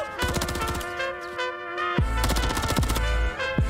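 Rapid AK rifle fire in the Call of Duty video game at a Call of Duty League Major qualifier match, two dense bursts of automatic shots with a short gap between them, loud and close over steady game and music sound.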